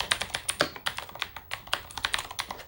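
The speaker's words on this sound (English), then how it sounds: "this is a modern reproduction of the Apple Macintosh original keyboard, the M0110" Keys clack in quick, uneven bursts on a modern reproduction of the Apple Macintosh M0110 keyboard, with close, crisp strokes and no voices.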